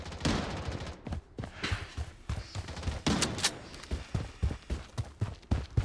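Rapid bursts of gunfire from the shooter game Blood Strike, with dense overlapping shots in uneven volleys, loud and close, and no talking.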